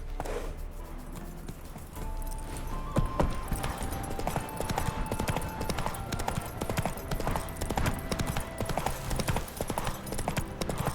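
Hooves of Geralt's horse Roach clip-clopping in The Witcher 3: a steady, fairly close rhythm of hoof beats over game ambience and music, going on throughout.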